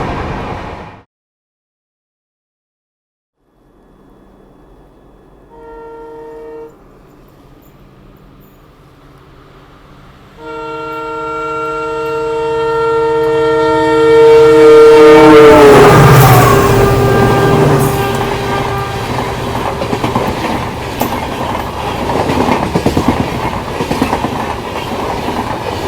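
Yesvantpur-Gorakhpur Express running past a station: after a quiet start, steady tonal rumble and clicking wheels build to a loud, broad roar of passing rail cars that holds through the end.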